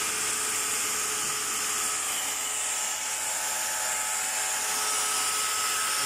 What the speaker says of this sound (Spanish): estamos cortando madera aquí